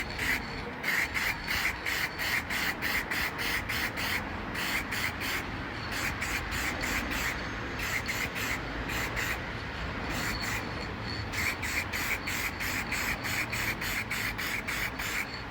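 Aerosol paint sprayed onto plastic car tail lights in steady bursts with brief pauses, a close, continuous hiss running through the whole stretch with no talking.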